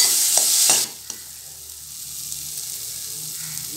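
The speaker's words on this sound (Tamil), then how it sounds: "இது வந்து ஒரு 3-5 minutes நல்லா இந்த எண்ணெயில் குக் ஆகணும்." Coriander thokku cooking in oil in a pan: a loud, close hissing sizzle with stirring clatter for the first second, then fading to a low, quiet simmer with a few faint ticks.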